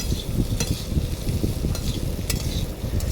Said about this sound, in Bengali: সবজিগুলো নাড়িয়ে চালিয়ে ভালো করে সবজিগুলো কষিয়ে নিয়ে